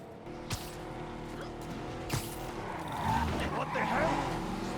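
A car in the video game Marvel's Spider-Man Remastered rumbles past with a steady engine drone, short sharp bursts and a swelling roar, mixed with game noise and what sounds like voices.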